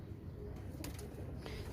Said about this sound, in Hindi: ये कलनुबा कबूतर है प्यारे भाई।